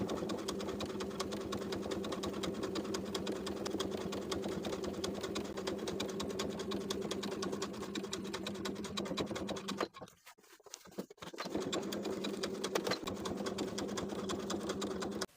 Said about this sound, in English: Continue top stitching along the upper edge of the collar stand, as well as the entire upper and side edge of the collar piece.